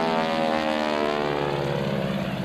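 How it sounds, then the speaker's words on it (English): A loud, sustained 600-horsepower propeller airplane engine at full power during an airshow, drone with a strong buzzing tone, near and steady the whole time, no voices. "that 600 horsepower engine"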